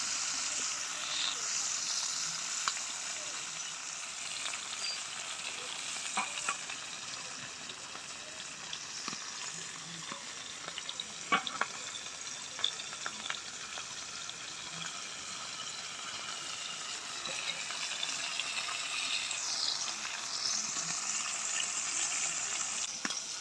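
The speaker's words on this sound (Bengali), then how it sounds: "একবারে সব মাছটা দিয়ে দিলাম।" Fasha fish frying in oil in a pan for an eggplant fish curry, giving a steady, close sizzling hiss that runs unbroken throughout, with a few faint clinks and no talking.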